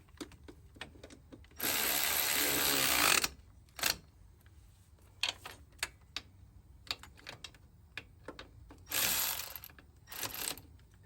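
A ratchet wrench turns a 10mm socket on a 2001 Jeep Grand Cherokee front end, with close bursts of rapid clicking between sharp individual ticks and pauses, loud and unaccompanied by talk.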